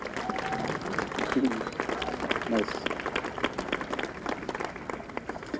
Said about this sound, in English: if you guys wouldn't mind helping me with a round of applause to the Youth Advisory Board